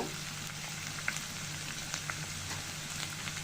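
Onion frying in a pan for an egg korma gives a continuous, even sizzle with small crackling pops, close and moderately quiet, with no voices.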